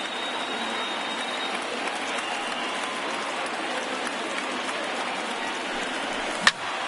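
A large stadium crowd of more than 31,000 rises and cheers in a baseball video game on PS4, a steady, dense roar that fills the whole clip with no talk over it and a brief sharp click near the end.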